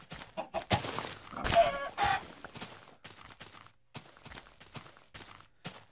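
Minecraft chickens give short, sparse clucks in quick succession alongside soft game thuds and footstep-like taps, fairly close and moderate in level.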